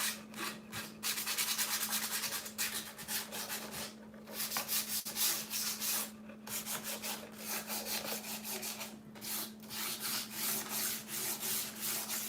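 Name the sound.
sanding to distress painted wooden step stool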